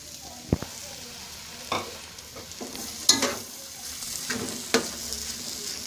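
Carrot halwa with khoya fries in a pan under a low sizzle, punctuated by a handful of sharp scraping strokes of a spoon stirring at irregular intervals.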